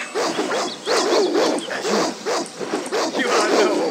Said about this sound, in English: here comes a horde of wild dogs